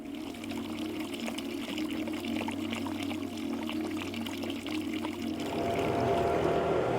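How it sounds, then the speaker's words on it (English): Water running from an outdoor drinking fountain, a steady splashing trickle close by that grows slightly louder and brighter toward the end, with a low hum underneath and no talking. "Rasta, there's a fountain to drink."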